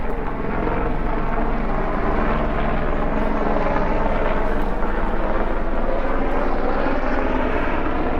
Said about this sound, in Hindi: ये हेलीकॉप्टर